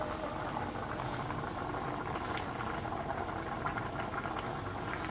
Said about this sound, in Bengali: এখানে মা আলু সিদ্ধ দিছে